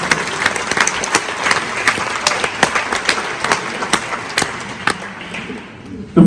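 Audience applause at a Christmas Eve festival concert, a dense, steady roll of many hands clapping at close range for several seconds before fading slightly near the end.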